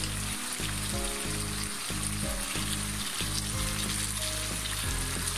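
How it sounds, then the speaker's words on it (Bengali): Beef for tehari sizzles and fries steadily in a pot, a continuous close crackle with intermittent low bubbling rhythm, no voices over it. "মাংসটা হয়ে আসছে একদম পুরোপুরি একদম সফট হয়ে গেছে,"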